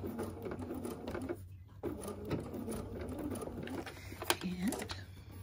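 A domestic sewing machine runs a short backstitch in several quick bursts of rapid, whirring stitching, close and soft, with brief pauses between runs.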